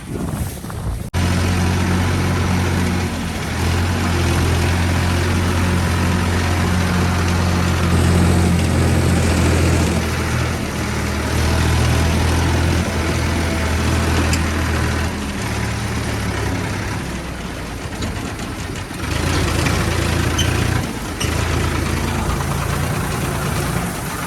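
A Farmtrac 60 tractor engine runs steadily during the wheat harvest, a loud low diesel drone with knocking pulses that holds level throughout, its tone shifting slightly partway through.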